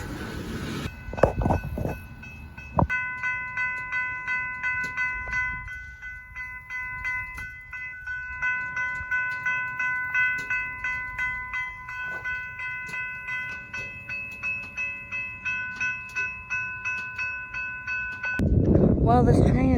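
An eastbound oil train sits stopped at a crossing in Whitefish, Montana, while a sustained tonal ringing pulses in a steady, regular rhythm for about fifteen seconds, with heavier rumbling noise breaking in at the start and end.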